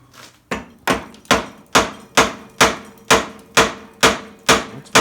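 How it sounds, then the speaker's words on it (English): A big hammer pounds steel on a 1946 Willys CJ-2A during bell crank work, about a dozen heavy, evenly spaced blows ringing close and loud with no talk. "Big hammer."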